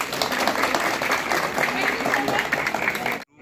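Loud, steady applause from a crowd at a Janjatiya Gaurav Divas public event in Reasi district, honoring a group of children, with clapping sustained for about three seconds before cutting off abruptly.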